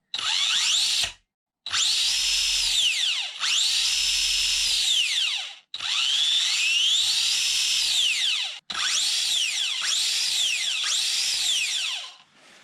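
A brushless-motor Mario Kart RC car with plastic gears spins its wheels off the ground in several sharp, high-pitched whining bursts. Each burst rises and falls in pitch, with short silent gaps between them and no talking.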